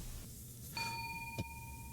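A notification bell sound effect rings out as a bright, clear ding with a sustained metallic tone that fades slowly, followed by a brief soft knock, over a low background hum.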